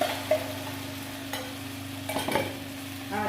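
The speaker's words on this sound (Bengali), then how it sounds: "বেসনে যেটা আমি বানিয়েছিলাম সেটা এর মধ্যে ঢেলে দেবো। গ্যাসের ফ্লেমটা একদম কম রেখেছি।" Besan batter cooking in a pan on a low gas flame for kadhi pakoda, a gentle steady sizzle broken by a few spatula scrapes and stirs.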